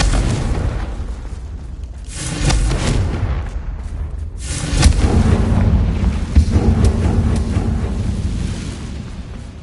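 A Confringo blasting spell detonates in Hogwarts Legacy, a fantasy video game, with heavy booming blasts that swell near the two- and five-second marks over a dense, rumbling din of combat noise.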